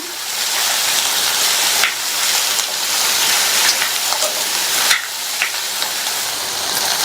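Chopped ridge gourd sautés in hot oil with garlic, a loud, dense frying hiss broken by a few sharp scrapes and clatters of stirring, with no voices.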